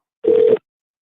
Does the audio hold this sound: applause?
no